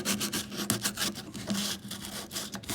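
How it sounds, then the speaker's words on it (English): Light sanding on the wood of an old Kona acoustic-electric guitar, with quiet, irregular back-and-forth rubbing strokes, close and soft, with no talking. "I'm just going to maybe do a light sanding on this."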